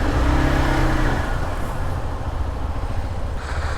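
An X-Pulse motorcycle engine runs steadily with a low rumbling drone, close and continuous for a few seconds, no talking over it.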